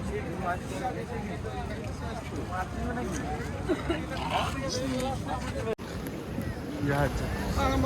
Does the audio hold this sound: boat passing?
yes